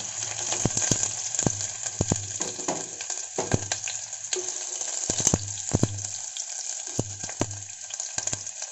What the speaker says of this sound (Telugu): జీలకర్ర వేయగానే అది చిట్టుపట్లాడగానే అల్లం